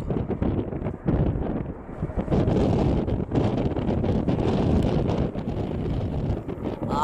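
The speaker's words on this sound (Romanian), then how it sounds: "nici nu pot să filmez ce bate vântul" Strong wind buffeting the microphone at a parachuting airfield, loud gusty roaring and rumbling that rises and falls throughout with no voices.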